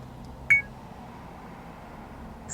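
A single short electronic beep from a GKU D600 dash cam starting to record rings out clearly over a low steady engine hum in a Mazda Bongo, then the hum continues alone.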